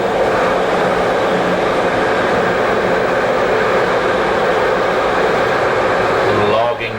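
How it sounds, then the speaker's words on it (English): A Swiss train travelling through the countryside makes a steady, loud rumble and rushing roar from start to finish, continuous and close, as heard from inside the carriage. "Swiss train."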